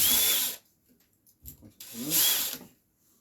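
Two short, loud bursts from a power drill snug screws into a control arm on an XTM Mammoth RC car, separated by a quiet gap with faint clicks.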